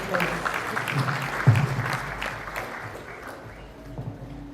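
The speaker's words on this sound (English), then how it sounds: "A round of applause for Aisha, please." Applause from the audience at a national journalism award ceremony, a continuous patter of clapping at moderate distance that gradually thins out toward the end, with some voices murmuring beneath.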